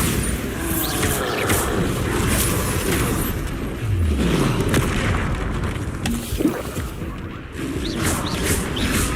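Bombarda spell explosions in the video game Hogwarts Legacy roll out as a dense, continuous rumble of booms and crashes, with whooshing sweeps passing through the din.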